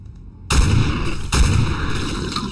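Two loud, close shotgun blasts in the S.T.A.L.K.E.R. video game, each a sharp boom with a long ringing tail, the second about a second after the first.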